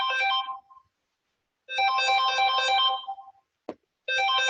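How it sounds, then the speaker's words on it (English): A mobile phone ringtone plays a bright electronic melody in three loud bursts separated by silence, with a short click between the second and third. "sorry, that's my phone."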